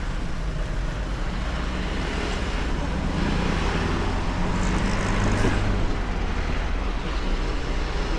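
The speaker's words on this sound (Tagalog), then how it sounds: "Oh, traffic na naman." A constant low rumble of road traffic and engine drone is heard from inside a truck hauling soft drinks, moderately loud and continuous.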